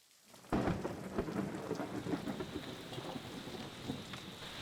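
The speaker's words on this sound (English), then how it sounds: "I woke up to it raining in the middle of the night and it has not stopped" Heavy night rain falls steadily on an off-grid homestead as a loud crack of thunder breaks in and rumbles on beneath the constant patter of drops.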